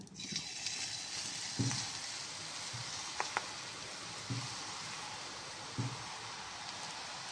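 A steady, hissing sizzle of gram flour batter frying in oil, with a few soft knocks and taps scattered through it.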